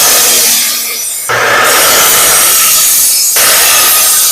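Hand saw cutting through a 2x4 wood board to length, a steady close rasping stroke with a brief break partway, loud and alone with no talk.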